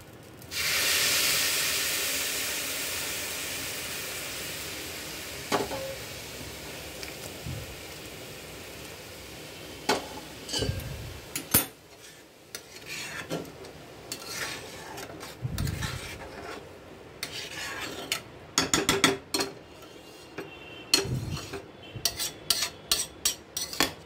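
Water poured into a hot pan of cooked lentils gives a loud, broad hiss of steam that fades over several seconds, followed by scattered bubbling, spitting and light clatter of a utensil.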